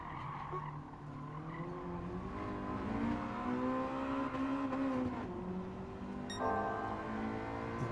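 Tires squeal under harsh braking in Gran Turismo 7 on the Tsukuba circuit, a long wavering skid over the droning race car engine, close and prominent with no talk.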